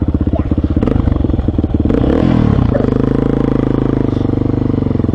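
A new motorcycle's engine pulls hard through the gears, loud close-up exhaust pulses rising in pitch, briefly dipping around a shift, then settling into a steady throaty drone with rattly mechanical clatter.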